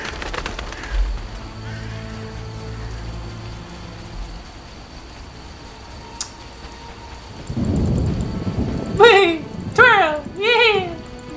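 Rain falls with rolling thunder in The Witcher video game, a low rumble building and fading, while someone talks and sings over it.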